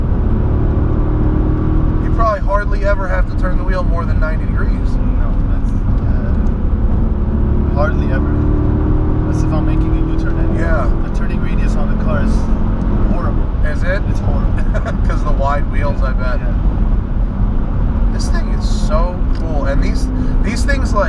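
Naturally aspirated V8 of a Mercedes-Benz CLK63 AMG Black Series driving, a steady loud cabin drone with rising and falling engine tone under ongoing conversation.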